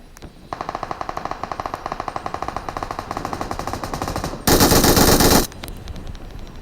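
Rapid, evenly spaced machine gun bursts from a video game rattle for several seconds, followed by a loud, dense blast of fire, then the shooting stops.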